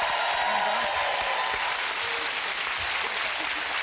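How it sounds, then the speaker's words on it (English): Studio audience at a TV game show claps loudly and steadily for a departing family team, a dense, continuous wash of applause with faint cheering mixed in. "Give them a big round of applause, the Daybreak team!"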